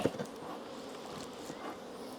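Honeybees buzzing around an opened hive during the first honey harvest after rapeseed bloom, a faint, steady drone of insect wings with a brief louder rustle at the start.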